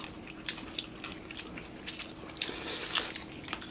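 Crisp bites into crunchy fried pork cheek skin, the binagoongan-style crispy pork cheeks giving a few sharp crackling crunches spread over a few seconds, close and fairly quiet, with faint chewing between.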